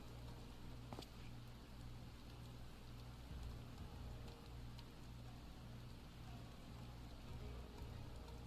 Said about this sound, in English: Why did it start raining?